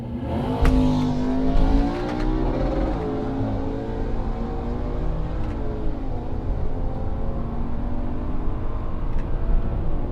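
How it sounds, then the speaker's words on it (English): BMW 335i with the twin-turbo N54 engine launching hard off the handbrake at a drag strip, its engine note climbing through rising revs in a loud, continuous pull that carries on for the whole stretch. "That was a good launch actually, using the handbrake so it wouldn't spin."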